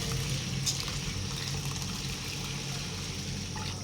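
Continuous splashing and trickling of water as sago pearls are rinsed, close and steady with no voices.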